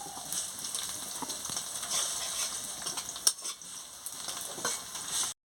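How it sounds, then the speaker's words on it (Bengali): Whole spices for tempering sizzle and crackle steadily in hot oil while cooking a tela kacha (ivy gourd) chorchori, with a bright continuous hiss, occasional stirring scrapes and a sharper pop near the end, close and fairly loud. "এবারে ফোড়নটা দিয়ে দিচ্ছি।"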